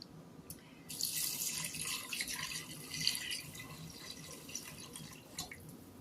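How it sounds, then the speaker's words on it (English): Water from a tap or jug runs steadily into an Instant Pot for ham and bean soup, a continuous close splashing stream lasting several seconds with no talking. "I'm going to add 4 cups of water."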